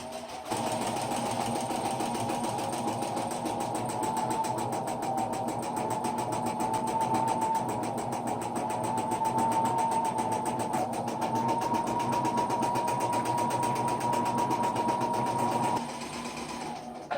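A sewing machine runs a satin edge along a round tablecloth, a close, steady mechanical whir that holds unbroken for about fifteen seconds before cutting out near the end.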